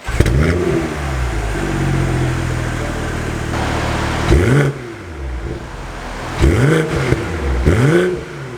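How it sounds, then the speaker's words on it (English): A 2022 BMW X3 M40i with stock exhaust fires up with a loud roar and settles into idle, then is revved repeatedly in sharp bursts that rise and fall. "let's have a startup and let's see how the car sounds"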